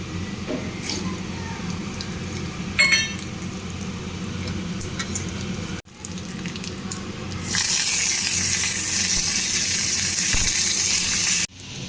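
Dried red chillies, cumin and mustard seeds tempering in hot oil, a steady sizzle that swells loud and bright partway through, with faint clatter and handling noises before it.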